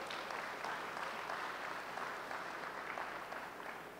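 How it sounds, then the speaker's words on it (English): Audience applause at an opening ceremony, a steady, even patter of many hands clapping together, fairly quiet and distant, with no break for the full stretch. "I think we should applaud all the people who were responsible for doing this"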